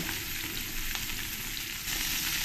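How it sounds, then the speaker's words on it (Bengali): Puti and mourala fish sizzle in hot oil, a steady, close crackling hiss with no voices. "আমি মাছগুলো অল্প অল্প করেই ভেজে নেব।"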